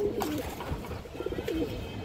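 Pigeons of an old-line jag-necked breed coo in soft, low, rolling bursts close by, several calls overlapping against a murmur of background noise, with no speech.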